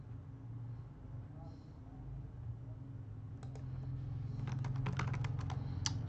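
Typing on a computer keyboard, a few faint clicks early, then a close, quick run of key taps over a low hum, with someone speaking at moments.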